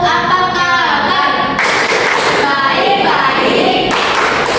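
Schoolchildren in a classroom clap along to the 'Tepuk apa kabar' clap chant, a dense run of steady rhythmic claps and taps mixed with chanting voices, loud and close throughout.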